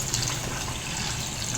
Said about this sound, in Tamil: இதுக்கு 1 கப் அளவுக்கு தண்ணி எடுத்துக்கிறேன்